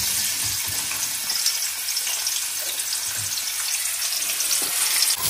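Onions fry in the same oil used for potatoes in a mutton dish, making a steady, bright, close sizzle with a few faint stirring bumps and no voices.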